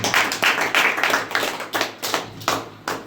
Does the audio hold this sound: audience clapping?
yes